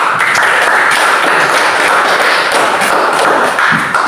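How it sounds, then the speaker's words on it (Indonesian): Classroom applause after a student group finishes presenting, a dense, steady patter of many hands clapping at close range throughout, with no talking. "Beri tepuk tangan."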